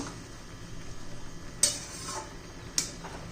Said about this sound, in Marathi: अजून मधून हलवायची जरा भाजी